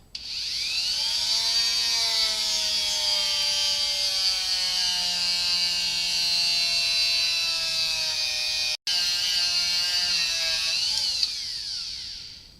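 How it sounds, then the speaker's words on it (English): A Dremel rotary tool with an abrasive bit grinding paint off the aluminum engine fins of a 1978 Suzuki GS550, a loud, close, high steady whine that dips slightly under load and stops once for a split second. "I'm taking a Dremel with an abrasive bit and grinding that off."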